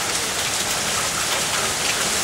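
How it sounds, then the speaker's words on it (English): Summer hail pelting down during a June storm in Toronto, a dense, steady hiss and patter of ice striking surfaces, loud and continuous with no voices. "what you see out there is hail. It has been coming down,"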